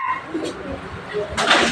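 Racing pigeons coo softly in a brief burst while being loaded for a pooling fun race, with voices and handling noise close by.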